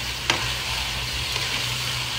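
Water spinach and eggplant stir-frying with belacan, a loud, continuous close sizzle with a brief scrape of stirring near the start and no talk.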